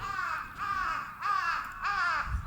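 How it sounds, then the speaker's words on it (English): Ravens at a Tokyo allotment give four harsh, rasping caws in steady succession. They sound fairly close and stand alone, with no voices. "Hopefully he can catch those bloody crows. Ravens, Des. Ravens."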